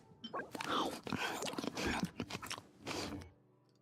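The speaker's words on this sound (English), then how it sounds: "Ah, that chewing sound." Genshin Impact game chewing effect: crisp, crunchy bites and mastication in several quick bursts over a few seconds, close and fairly quiet, with a pause before a final crunch.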